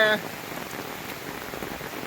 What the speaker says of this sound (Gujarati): અત્યારે તમે જોઈ શકો છો ધોધમાર વરસાદ પડી રહ્યો છે